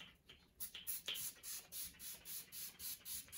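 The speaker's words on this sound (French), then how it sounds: "Je vais du coup mettre quand même le spray" A facial mist spray fires a series of short, soft hissing bursts in a steady rhythm, each puff close and quiet. Faint handling noises come before the sprays.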